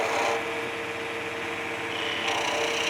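Spindle gouge cutting a spinning wooden pizza cutter handle on a lathe, making a steady close scraping whir with a slight shift in tone partway through.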